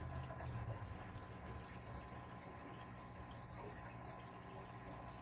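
Water running through a homemade siphon overflow, a faint, steady trickling and gurgling flow that continues evenly without any talk.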